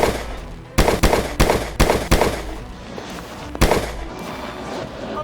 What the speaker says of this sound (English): Then gunfire broke out.